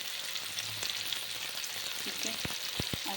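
Tomato frying in a pan for an ivy gourd (tondli) sabzi, a steady close sizzle with a few sharp scraping clicks near the end.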